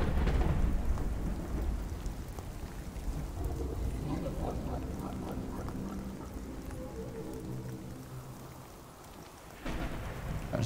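A thunderstorm in the video game The Cycle Frontier brings heavy, steady rain with deep rolling thunder, a loud rumble at the start that fades and then swells again near the end.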